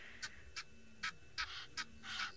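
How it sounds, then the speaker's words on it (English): Egyptian geese honking at night on safari, six distinct nasal honks in an uneven rhythm, moderately near over a quiet background hum. "that's the Egyptian geese"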